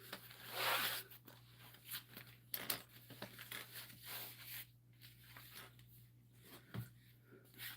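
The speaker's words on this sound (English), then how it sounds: "Putting some electrical tape because I don't want to disturb the chaos that I call my room right now" Electrical tape is pulled off its roll in a cluttered room, giving a series of sharp ripping and crinkling bursts with a steady low hum underneath.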